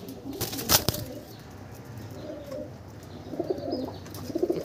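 A male patta pigeon is let go and flutters, with a sharp burst of wingbeats near the start followed by soft low cooing nearby.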